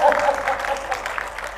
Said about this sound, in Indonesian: Sekali lagi tepuk tangannya.